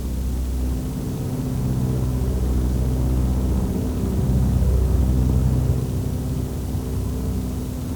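The engines of a Heinkel 111 bomber in flight drone steadily, a loud, continuous, low rumbling roar that holds almost unchanged throughout, with no voices.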